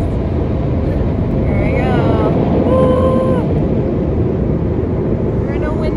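Giant blow dryer at an automatic car wash roars steadily and loudly over a car from start to finish, heard from inside with brief speech and a passing whine.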